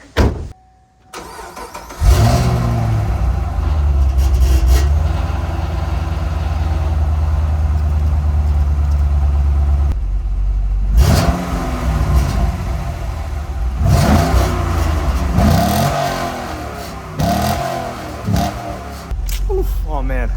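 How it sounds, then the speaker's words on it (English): A 2010 Camaro 2SS V8 makes a cold start nearby: a starter whir and a loud catch, then a steady rumbling fast idle, followed by several sharp throttle blips that rise and fall. Someone talks over parts of it. "let's get a cold start, because I love how this car sounds"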